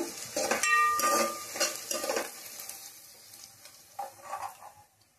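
Mushrooms for a curry fry in a pan, with soft sizzling under clinks and scrapes of a utensil stirring against the metal, fading toward the end.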